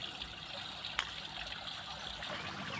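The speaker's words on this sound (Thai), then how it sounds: "ก็จะมีน้ำตกอันสวยงาม ให้เราได้เยี่ยมชม" Water from a small ornamental waterfall in front of the dining hall at a temple in Nakhon Ratchasima province trickles and splashes steadily at low volume, a soft continuous wash with no voices.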